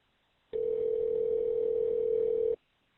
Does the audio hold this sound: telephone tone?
yes